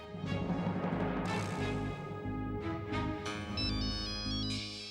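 A mobile phone ringtone plays a bright, repeating melodic tune, moderately loud and close, with no voices over it.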